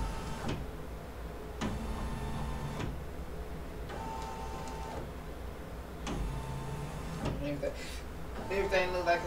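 A Brother PE800 embroidery machine traces its embroidery area on a hoodie, giving several bursts of motor whir and stepping hum that start and stop in a steady rhythm, loud and close, with brief pauses between runs.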